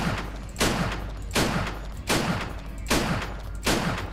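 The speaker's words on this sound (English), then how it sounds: "I'm laying tons of bullets into that guy and he's not friggin' reacting at all" Rifle gunfire in a first-person shooter set in a Soviet subway station, firing in five loud, evenly spaced bursts of rapid shots with no talking.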